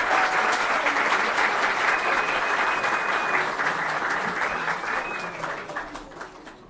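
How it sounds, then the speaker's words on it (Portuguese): A crowded lecture hall applauds a professor emeritus with loud, dense, continuous clapping that holds steady before gradually fading out. "Palmas para ele."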